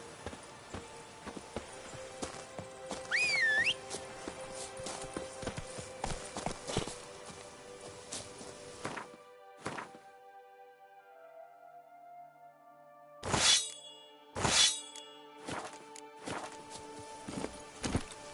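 Horse hooves clip-clop in The Witcher 3 game, a run of steady footfalls through the first half with music and a scene sound around them, then several loud separate thumps near the end.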